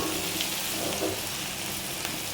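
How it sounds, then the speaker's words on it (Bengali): Ingredients frying in a pan while being cooked with dried fish, giving a steady, close, broadband sizzle with soft crackles throughout and no talking. "চলুন, এটা ততক্ষণে ভাজা হোক।"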